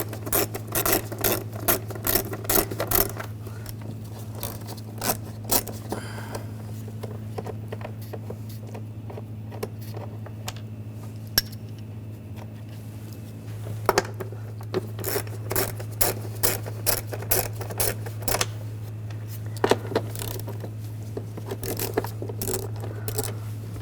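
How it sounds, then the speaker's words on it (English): A 10mm socket ratchet loosens the valve cover nuts on a 2006-2010 BMW 550i 4.8L V8, giving rapid ratcheting clicks in bursts separated by quieter pauses, over a constant low hum. "We're going to remove this cover, use a 10mm socket,"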